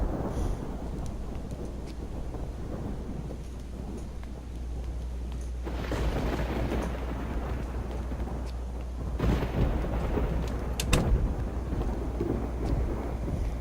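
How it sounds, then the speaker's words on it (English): Rain and rumbling thunder in the survival video game Project Zomboid: a constant wash of rainfall with deep low rumbles, and louder thunder swells near the middle and toward the end. "While it's raining"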